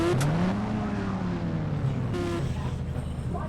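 A video-game delivery bike's motor drones close by, its pitch swelling and dipping briefly as it rides, continuous throughout.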